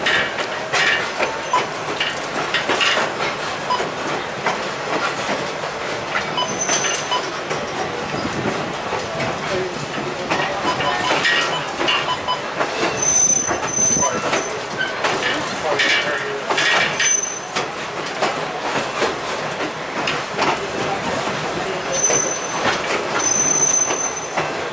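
Riding behind a Katy SW8 diesel locomotive on rough museum track in Oklahoma, railcars rumble and clatter continuously, with wheel squeals breaking through now and then and faint voices in the background.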